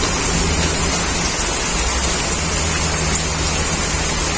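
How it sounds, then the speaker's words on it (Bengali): Heavy rain pours down steadily in a dense, even hiss, loud and continuous with no voices. "প্রচুর বৃষ্টি হচ্ছে"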